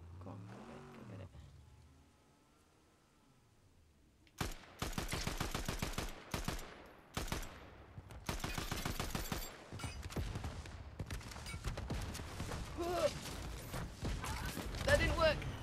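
Rapid bursts of video game gunfire in Fortnite, sharp repeated shots in dense volleys after a quiet stretch, growing busier and louder toward the end, with a player talking over the action.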